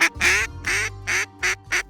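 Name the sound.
ducks quacking while a bear hunts them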